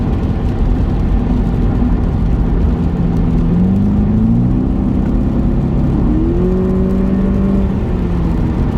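A Volkswagen Polo 6R GTI engine accelerates steadily from inside the car, its note rising through the gears as a constant loud hum with climbing tones, with no talk over it.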